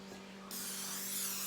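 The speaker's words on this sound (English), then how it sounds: "And you go ahead and you just spray your dish." Cooking spray hisses steadily into a baking dish for a sopapilla cake, a continuous airy spray that begins abruptly partway in and holds close and moderately loud to the end.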